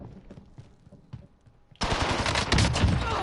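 SMG gunfire in the Warzone video game bursts in loud and continuous after a quieter stretch of small in-game noises, a sustained rapid stream of shots filling the final second and a half.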